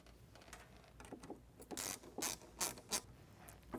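Several quick ratcheting bursts from an 8mm socket wrench tightening the factory intake tube on a Ford F150, close and crisp, in short runs of clicks.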